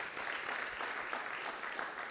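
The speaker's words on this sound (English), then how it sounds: "So can we give them a round of applause?" Audience applause at an entrepreneurial leadership and financial literacy event, a faint, even wash of clapping from a crowd, heard alone and somewhat distant.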